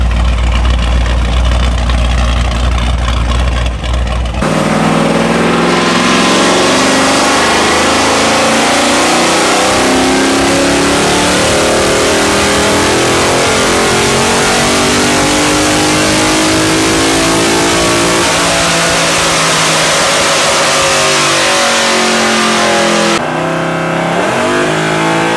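A loud engine revs up hard and holds a high, snarling pitch for a long stretch, then drops back toward idle near the end.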